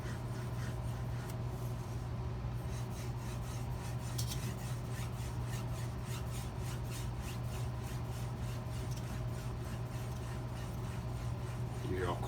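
An S30V steel chef's knife is drawn across an Edge Pro sharpening stone in a run of quiet, rhythmic rasping strokes. The strokes repeat evenly and sit close, with a low steady hum underneath.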